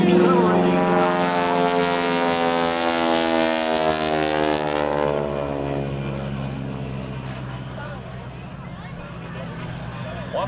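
An aerobatic aircraft at an airshow accelerating through a roll, a loud, sustained engine roar with shifting pitch that gradually fades, heard under a commentator's voice.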